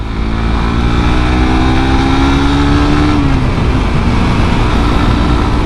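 A 2017 Suzuki GSX-R150 with a conventional clutch and about 5,000 on the odometer revs hard up close. The engine tone climbs, then drops sharply at a gear shift and keeps droning loudly.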